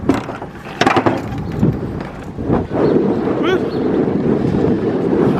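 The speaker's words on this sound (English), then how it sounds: "Wind, I always want to start blowing when we start recording." Gusty outdoor wind buffets the microphone with a loud, rumbling roar that swells and persists throughout, while a voice talks over it.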